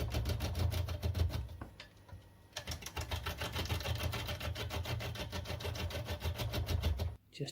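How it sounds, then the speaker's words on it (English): A Crown cryogenic 1/2 inch bowl gouge shapes the outside of a bowl from log-pile wood on a wood lathe, making a steady rapid chattering whir that dips briefly near the start and cuts off at the end. "Just using the Crown cryogenic 1/2 inch bowl gouge here to shape the outside of the bowl"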